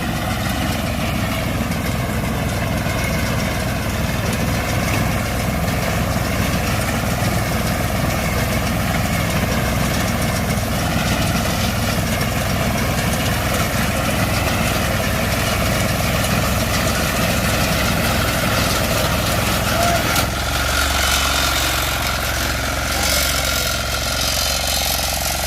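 A Greaves engine on a Rajdhani power reaper idles close by, a loud steady diesel chug with constant vibration throughout, its tone shifting slightly near the end.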